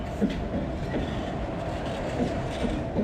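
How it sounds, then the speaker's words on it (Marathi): A train arriving at a station rumbles steadily nearby with a dense low roar and faint rhythmic clatter of wheels on the rails. "हे बघा ट्रेन आलेली आहे"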